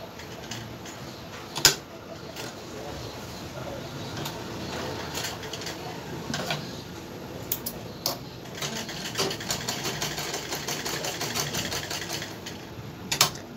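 A sewing machine stitches around the curved neckline of a printed cotton garment, a steady mechanical whirring run with small clicks and a few sharp knocks, fairly close and moderately loud, with no voices.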